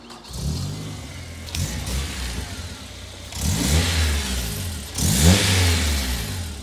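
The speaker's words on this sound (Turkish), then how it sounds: "Hem egzoz sesini hem de motor sesini bir dinleyelim." A Honda S2000 engine revs in three strong bursts, the exhaust roaring up and settling between each blip, close and loud.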